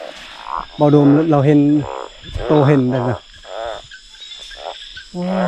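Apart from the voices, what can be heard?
oong frogs croaking while being caught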